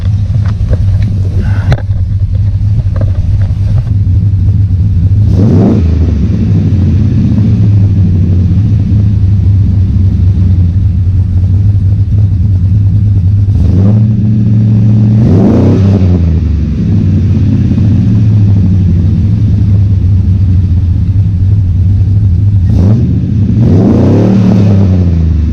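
Chevy Silverado SS with a 6.0 V8, long tube headers and Magnaflow mufflers, idling with a deep, loud rumble broken by three sharp revs that rise and fall at roughly ten-second intervals.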